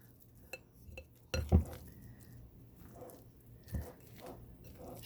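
Biscuit dough ingredients tossed in a bowl, with faint utensil clinks and scrapes and a couple of louder knocks against the bowl, quiet and close, with no talking.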